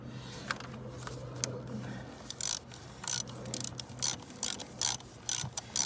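A ratchet clicks in quick bursts while the bolts are tightened back down on a 2012 Chevrolet Traverse during a tune-up. The rapid clicking is close and clear over a low steady hum, with no talk.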